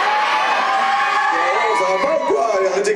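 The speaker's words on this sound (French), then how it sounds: "Arrêtez de crier comme ça" A large crowd at a cosplay contest announcement shouts, whoops and cheers loudly and continuously, high excited voices layered into a sustained roar, with no single speaker standing out.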